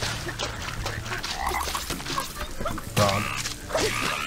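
A frog croaks in the video game Ice Age 2: The Meltdown, with several close, raspy croaks over busy game background sounds.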